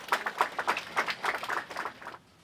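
Outside a Moscow courthouse, a small crowd claps quickly and unevenly as rights activist Oleg Orlov is led out in handcuffs under police escort; the moderate clapping lasts about two seconds, then stops.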